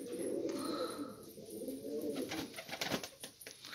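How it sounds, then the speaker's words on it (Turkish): Soft cooing from homing pigeons, low and murmuring, continuing steadily at close range with faint chirps and rustling toward the end. "Bu kuşlar kırıktır, posta kuşları."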